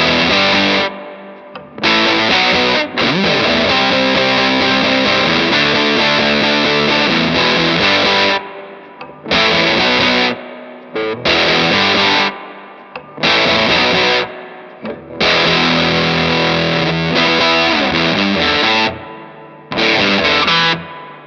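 Distorted electric guitar riff through a Fender Twin Reverb amp with heavy spring reverb, playing a song; loud chugging bursts separated by short gaps, repeating across the passage with no voices.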